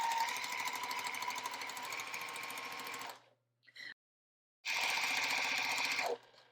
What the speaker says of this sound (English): So just keep sewing all the blocks in the first row in the same manner.